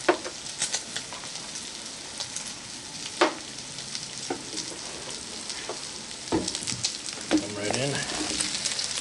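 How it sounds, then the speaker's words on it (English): Bacon and onions frying in a pan, a steady close crackling sizzle with scattered pops and clinks of stirring, and a voice heard quietly in the background. "the bacon and onions are starting to brown up"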